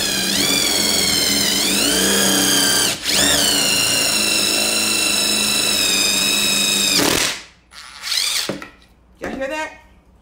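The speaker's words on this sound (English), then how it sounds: "I'm gonna drill in and out with this half inch drill bit, and it's gonna create damage on purpose" A power drill with a half inch bit bores through plywood, its motor whining loudly and steadily for about seven seconds with a brief dip, then two short separate bursts after it stops. No talking is heard.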